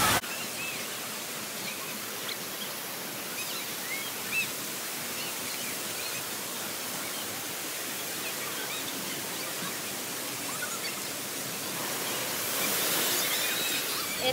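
Water at a water park rushes in a continuous broad wash of spray and splashing, steady and enveloping, swelling a little louder near the end.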